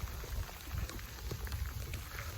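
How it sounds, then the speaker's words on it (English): Heavy rain pours down on a shore fishing trip in Hawaii, a loud, dense patter and hiss drumming steadily on nearby surfaces with a low rumbling undertone, continuous and close. "We are being soaked by this rain that followed us."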